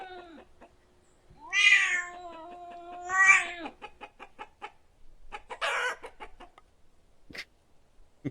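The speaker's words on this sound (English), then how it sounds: "We've got ambient chicken sounds now. In the chicken coop. And the cat gets angry at you" Video-game ambient sounds in a chicken coop: a hen's drawn-out clucks and squawks alternate with an angry cat's yowls and hisses, close and clear against near silence, with short broken bursts scattered between.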